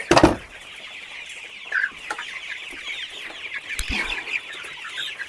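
Soft, steady clucking and peeping from several young chicks about a month old close by, continuous with small bursts and no talking.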